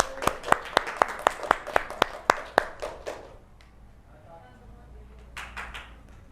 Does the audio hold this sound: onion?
no